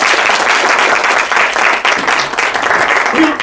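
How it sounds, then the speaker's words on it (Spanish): An audience at an academic talk on science teaching claps loudly and continuously for an incoming speaker, a dense, close burst of applause lasting several seconds. "les pido por favor que den un fuerte aplauso para que comience su ponencia"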